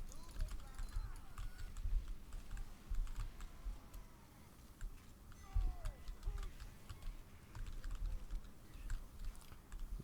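Computer keyboard typing during a Team Fortress 2 gaming session: quick, uneven clicks and clatter run steadily under a voice.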